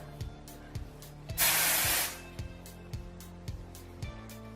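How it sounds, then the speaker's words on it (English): A close, loud burst of hairspray hisses for about a second while a gothy voluminous ponytail is styled, set against a faint rhythmic background beat. "I'm gonna go ahead and hairspray it now."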